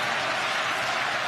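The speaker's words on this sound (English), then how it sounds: "And the crowd again rally behind Klitschko." A vast boxing arena crowd of 50,000 at the Esprit Arena roars steadily behind Klitschko during his fight with Tyson Fury, a broad, distant wash of cheering with no break.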